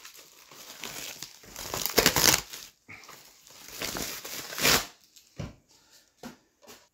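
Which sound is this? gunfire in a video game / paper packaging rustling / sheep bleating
paper packaging rustling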